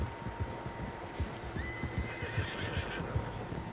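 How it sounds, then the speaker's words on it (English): Several horses in Red Dead Redemption 2 whinny and neigh while hooves clop in a steady rhythm underneath, close and moderately loud against an outdoor ambience. "Horses, quite a few of them."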